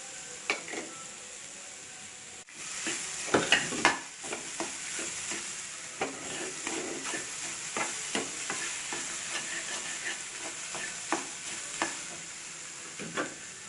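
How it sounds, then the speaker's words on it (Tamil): Garlic frying in a pan for a roasted egg curry: a continuous soft sizzle broken by scattered scraping stirs and light clacks of a spoon against the pan, close and fairly quiet, with no talk. "ஃப்ரை பண்ணணும். அது கூட பூண்டையும் நம்ம போட்டுக்கிடணும்."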